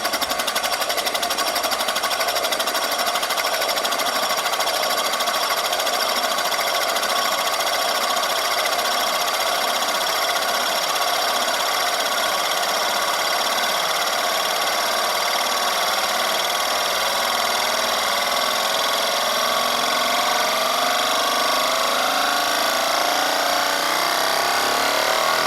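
A homemade Euler's disk, a 600 gram weight spinning on a 10-inch shaving mirror, gives a steady high-pitched whirring ring that runs on continuously, rising slightly as it precesses faster.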